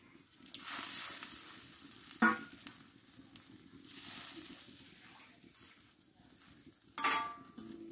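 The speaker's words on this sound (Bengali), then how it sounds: "এবার একটু লবণ দিয়ে দেবো স্বাদ মতো, দিয়ে মাছগুলোকে আমি ঢেলে দেবো" Fish poured into hot oil in a pan while cooking chandana fish jhal, with a soft steady sizzle and two sharp clattering bursts as the pieces land and are stirred, fairly quiet throughout.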